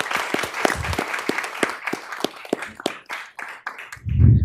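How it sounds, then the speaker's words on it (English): A small group at a board meeting breaks into applause, irregular individual claps spreading through the room at close range before tapering off into a low thump and murmur at the end. "I think that does deserve a round of applause."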